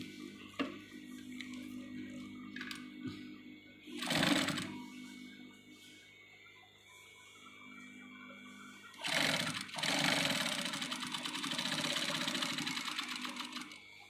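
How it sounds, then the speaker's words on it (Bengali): A sewing machine stitches a zipper onto a dress, a steady close mechanical whir with a couple of louder bursts of fabric handling and rustling; no talking. "আমি যে অংশ থেকে সেলাই শুরু করেছি ঠিক সেম এই একই জায়গা পর্যন্ত আমি সেলাই এখানে শেষ করব"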